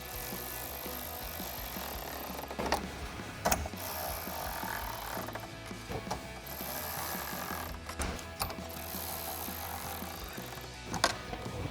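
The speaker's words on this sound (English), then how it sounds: "I'll throw my ratchet on the other end of that socket and tighten these down" Ratchet clicking at close range while tightening headlight mounting bolts on a 2014–2018 GMC Sierra 1500, steady fine ratcheting with a few sharper knocks and clanks scattered through.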